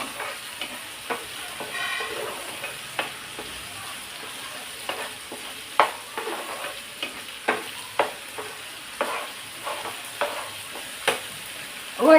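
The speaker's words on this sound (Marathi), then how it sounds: "टॅमॅटो वाटून झाला त्याला चांगलं परतून घेते आधी" Ground tomato paste sautéing in a pan gives a steady sizzle, broken by regular scraping strokes of a spoon about once a second, close up with no talking.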